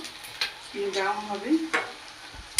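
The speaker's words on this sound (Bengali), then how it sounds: "ভাজার সময় কিন্তু আঁচটা মিডিয়ামে থাকবে" Rohu fish cutlets fry in a pan over medium heat. A soft crackling sizzle runs under a brief tonal voice-like sound, with sharp scrapes as the cutlets are turned.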